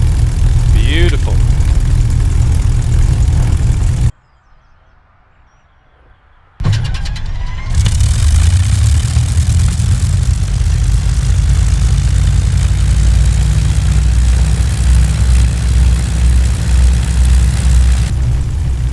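A P-51D Mustang's engine and propeller drone steadily in a flight simulator at Duxford, a loud continuous rumble that cuts out for a few seconds and then returns, with talk over parts of it.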